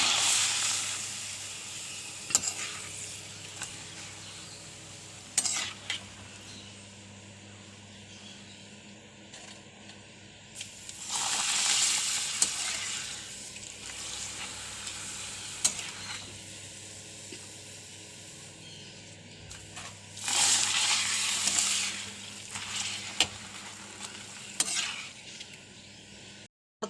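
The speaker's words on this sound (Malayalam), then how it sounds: "പപ്പടം വറുത്തു" Papadam frying in hot coconut oil, a soft sizzling hiss that swells in several bursts as each piece goes in and bubbles, then settles back to a low crackle between, close and fairly quiet with no talk.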